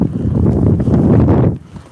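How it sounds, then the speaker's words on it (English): Strong wind during heavy snow in Montreal rumbles loudly across a microphone in a hard gust, then drops off abruptly near the end. "it's very windy right now."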